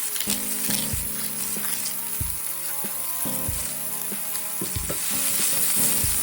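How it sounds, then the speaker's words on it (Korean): Asparagus sautéing with sliced garlic in a pan, a steady close sizzle with repeated scraping and stirring strokes throughout, no voices. "아스파라거스와 함께 볶습니다."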